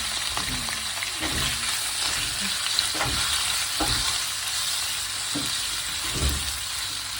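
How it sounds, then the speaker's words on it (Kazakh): Meat fries in rendered goose fat in a pan, with a loud, continuous sizzle and repeated scraping strokes of a silicone spatula stirring it at an uneven rhythm. "Етіміз қуырып аламыз"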